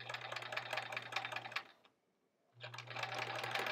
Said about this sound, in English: Let's see if I can sew a little straighter tonight.